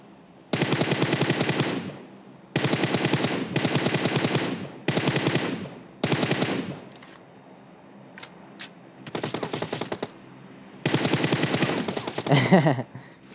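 Automatic gunfire in the mobile battle royale game PUBG Mobile: loud, sustained bursts of rapid shots, each lasting about a second, separated by short pauses and a few scattered single pops, with no voices.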